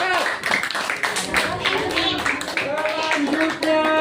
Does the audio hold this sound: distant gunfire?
no